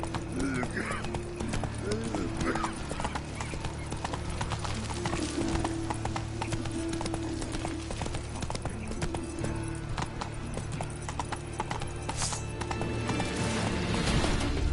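Horse hooves clop steadily at a gallop through The Witcher game world, a continuous rhythmic beat under ambient game noise and occasional character voices.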